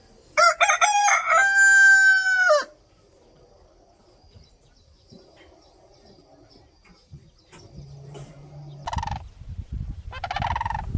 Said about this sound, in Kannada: ಕಾಕ್, ಹುಂಜ